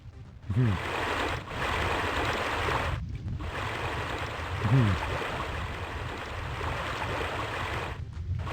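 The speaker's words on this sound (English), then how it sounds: "My god, this water sound effect." Continuous loud streaming water from the video game Normality rushes on, with brief dropouts and a couple of short voiced sounds over it.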